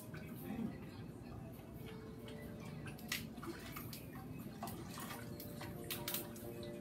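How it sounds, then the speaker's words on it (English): Canada Dry ginger ale poured into cake batter, giving a steady fizzing, splashing wash with faint clinks and soft voices in the background. "So if you can go ahead and pour in the Canada Dry."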